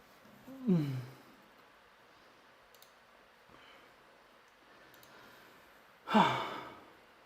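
A powerlifter breathes hard after a heavy set, with two loud exhaled sighs at start and end, quieter breaths and faint clicks between.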